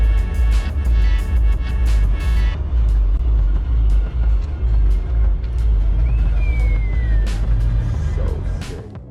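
A front-wheel-drive Toyota Trueno at the Daikoku car meet, a loud low engine rumble idling and rolling close by, with a sharp squeal and clanks over a busy crowd; people talk in the background.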